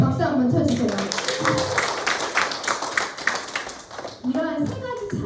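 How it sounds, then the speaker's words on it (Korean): An audience at a USANA business presentation claps together for a few seconds, with voices heard at the start and the end. "네, 박수 한번 쳐주세요."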